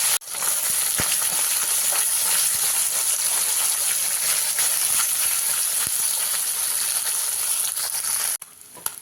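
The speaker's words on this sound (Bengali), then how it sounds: "একই পদ্ধতিতে বাকি মাছগুলো আমি ভেজে নিই" Small river fish frying in hot oil, a loud, dense, continuous sizzle and hiss close by that holds steady for several seconds before cutting off abruptly near the end.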